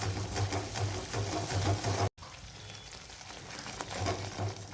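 Dhaba-style mixed vegetables frying in spiced oil in a pan, a steady dense sizzle heard up close with a brief dropout midway, then the crackle continues alone.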